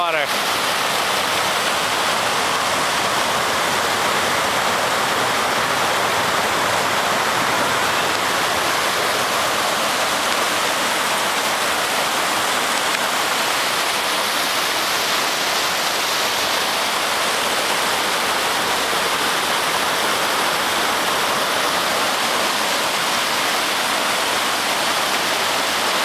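A steady, loud roar of stream water tumbling over big rocks at a short drop fills the whole stretch without pause, a dense broadband rush heard close at a guerrilla-style hammock campsite.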